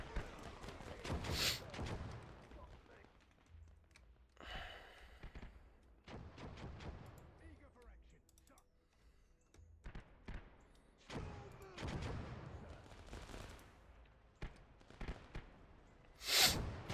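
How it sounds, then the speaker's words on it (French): Artillery strikes land in a video game battle as scattered heavy thuds and booms, some distant and some close, with a sharp loud blast near the end over faint background noise. "on va mettre un coup d'artillerie pour nettoyer dedans"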